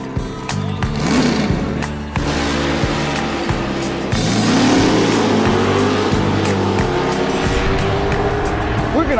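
A 1962 Chevy Nova pro street car with a 588 cubic inch big block Chevy and custom headers runs at a drag strip, loud and close, its engine rumbling and revving with rising pulls and sharp bursts throughout.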